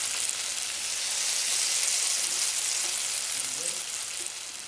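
Seasoned meat browning in a hot pan, a loud, dense sizzle close up that swells slightly in the middle and carries on without a break, with faint stirring scrapes and no clear talk.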